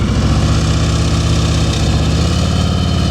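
A motorcycle engine idles steadily and loudly up close during slow-speed riding practice drills, a continuous low rumble with a slight dip in pitch partway through and no talking.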